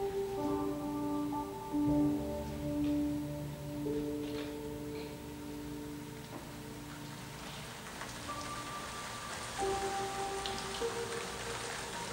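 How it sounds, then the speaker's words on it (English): Steady rain sound effect from a stage play of The Children's Hour, a dense even patter with a faint tonal hum beneath it and no voices. "It's raining."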